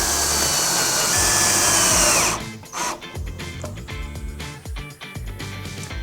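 A power screwdriver drives a black square head screw into the bottom of a small PVC arboreal enclosure: a loud steady motor whine that stops abruptly, then a run of clicks, knocks and handling noises.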